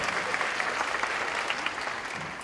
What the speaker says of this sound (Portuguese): Vamos receber com uma salva de palmas a Paola, a nossa mediadora deste primeiro painel.